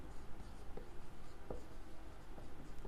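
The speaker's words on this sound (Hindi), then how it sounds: "थोड़ा बड़ा बड़ा लिखती हूँ" Marker or chalk strokes on a board during a maths lesson, heard as four faint, short scratchy strokes spaced roughly evenly over a low background hum, with no talking.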